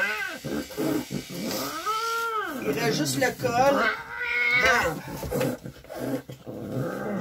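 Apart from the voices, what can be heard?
aggressive matted cat yowling during grooming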